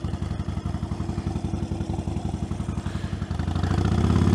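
Harley-Davidson motorcycle engine on a ride through Suffolk countryside, a steady loud pulsing throb with rapid rhythmic firing beats that swells and deepens toward the end as the engine revs up.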